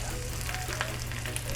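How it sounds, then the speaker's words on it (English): Shrimp sizzle steadily in a hot cast iron pan on a Weber kettle grill, a dense crackling hiss with a few brief pops, close and constant. "you hear that sizzle?"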